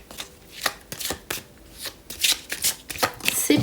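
Tarot oracle cards are shuffled and cut for a November 2023 Gemini reading, giving a run of close, soft riffling and slapping bursts in an uneven rhythm with faint pauses between them.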